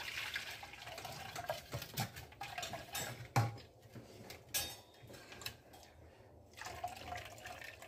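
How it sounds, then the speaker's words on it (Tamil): Homemade butter and buttermilk poured through a strainer into a vessel, a soft liquid trickle with clinks of utensils against pots and a few sharper knocks. "இது மாதிரி வடிகட்டி, இந்த வடிகட்டியில் இதை வச்சுட்டு ஊற்றுங்க"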